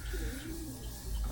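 Racing pigeons coo softly, with a low, rolling coo against steady background noise and a faint hum, heard briefly.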